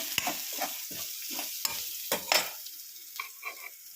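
Mashed boiled green banana frying in a pan, with close sizzling and repeated scraping stir strokes of a spoon against the metal, no voices.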